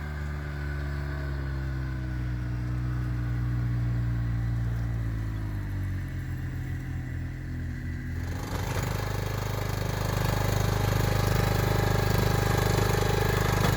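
A Ford tractor engine runs steadily nearby in an off-grid Alaskan setting, a continuous low rumble that grows fuller and louder partway through as the revs rise.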